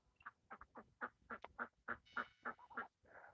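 A muddy domestic duck quacking in a rapid series of about a dozen close, raspy squawks, heard alone outdoors.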